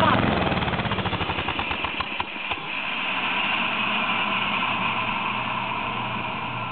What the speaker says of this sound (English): that is my turbo lawnmower